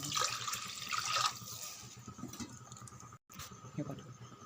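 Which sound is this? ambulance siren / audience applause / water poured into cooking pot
water poured into cooking pot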